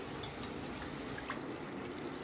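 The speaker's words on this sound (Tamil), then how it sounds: "இப்போ வந்துட்டு தண்ணி சேர்த்துடலாம்." Water pours into a pot of rice and spinach for keerai rice, a soft, steady wash of liquid that is faint and continuous, with no talk.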